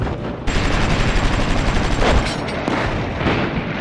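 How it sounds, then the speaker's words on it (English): Heavy mortar fire in World War II combat near Naples against German positions in a mountain cave, heard as a loud, sustained rumbling barrage of blasts and crackling reports filling the whole stretch. "Our heavy mortars are giving the Germans hell."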